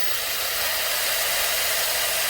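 SUPGALIY 5 in 1 air styler hair dryer running at high speed, a steady, close, breathy hiss of rushing air with no pauses.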